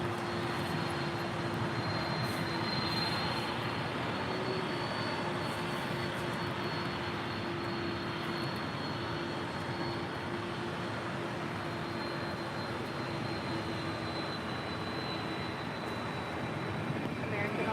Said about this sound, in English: 767-300ER. Coming over to the south side, departure to JFK, flight 562.